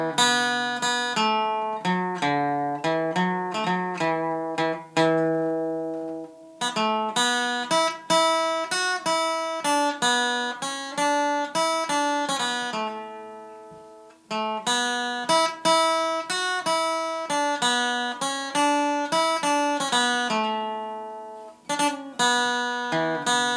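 An acoustic guitar plays the Spancil Hill tab as a clear picked melody with ringing single notes and brief pauses between phrases, close and alone.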